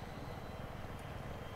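Helicopter rotor and engine drone in the Global Conflict battle game, a steady low rumble running throughout at moderate loudness with no clear voices over it.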